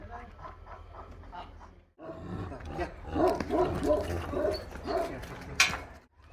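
A large fighting dog, about two years old and 60 kilograms, growls and whimpers after a bout, with rough, throaty vocal bursts mixed with people talking nearby.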